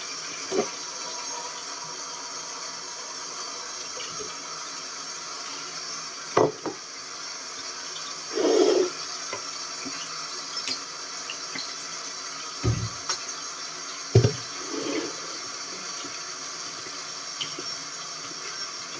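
A kitchen tap runs into a sink in a steady hiss while dishes are washed, broken by a few short knocks and clatters of handled items.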